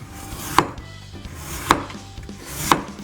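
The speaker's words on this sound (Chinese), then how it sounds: "馬鈴薯怎麼切這麼小呢？" Potatoes are cut into small pieces on a board for braised beef brisket, giving three sharp, well-spaced knife thuds up close in a quiet kitchen.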